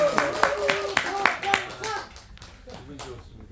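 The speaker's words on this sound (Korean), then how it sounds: "다시 한번 박수." Rhythmic group clapping from a lecture audience in a steady beat, loud at first and thinning out, with voices chanting or talking along.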